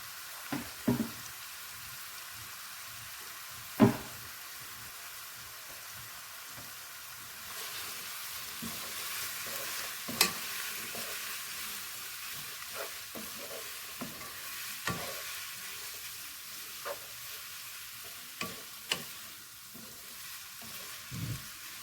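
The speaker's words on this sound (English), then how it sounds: "we're gonna add all the vegetables we chopped up to this pan as well, because we want to saute all of this" Chopped vegetables sautéing in a pan for chicken and corn rice, a soft continuous sizzle punctuated by sporadic utensil knocks and scrapes as they are stirred, fairly quiet and close, with no speech.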